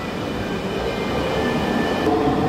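A metro train standing at a station platform, a steady loud rumble and hum of the carriages with a faint high tonal whine, no voices.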